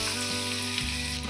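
Eight cloves of finely sliced garlic fry in oil in a large kadai, giving a steady, close, dense sizzle throughout with no voices.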